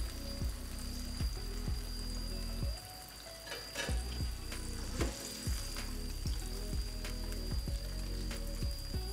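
KFC-style spicy chicken tenders frying in hot oil over a medium flame, giving a steady, dense sizzle and crackle with quick pops throughout and no one talking.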